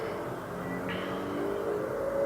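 Traffic outside rumbles steadily in through an open window, a low continuous road noise from a passing car with faint engine tone, distant and alone.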